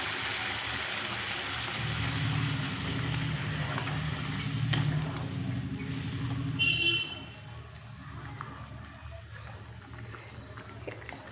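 Hot water poured into a pan of spice mix frying for a Bengali parshe fish curry, a steady hissing sizzle and liquid rush that runs loud for about seven seconds, then drops to a quieter simmer.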